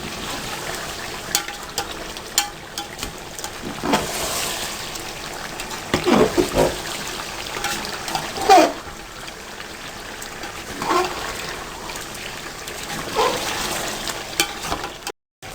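Green chillies fry in masala in a pan for degi chicken masala, making a continuous crackling sizzle with intermittent louder scraping bursts from stirring over about fifteen seconds.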